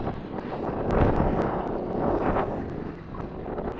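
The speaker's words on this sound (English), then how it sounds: "Very windy today." Steady, blustery wind rumbles and buffets the microphone during a recumbent trike race, with gusts swelling and easing; no other clear sounds stand out.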